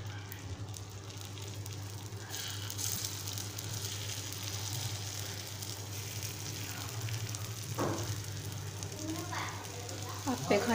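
Appe batter sizzles in hot oil in an appe pan on a gas stove for a mixed-dal appe dish: a steady, close, dense crackling hiss that never lets up, with a voice talking over it.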